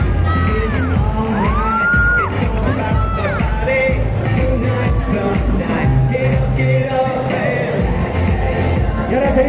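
Audience clapping and cheering at a cosplay runway show at Japan Weekend Valencia, a dense, steady wash of applause with shrill whoops and shouts rising throughout, loud and continuous.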